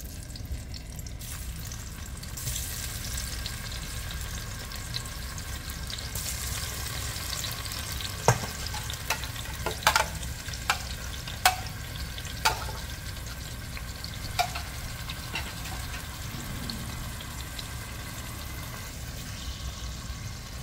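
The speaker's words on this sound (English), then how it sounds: "Let's do the squash. We'll put in some tomatoes in there." Squash and tomatoes fry in a pan with a steady, close sizzle, and a utensil scrapes and clacks through them in sharp irregular knocks as they are stirred, with a faint running-water wash beneath.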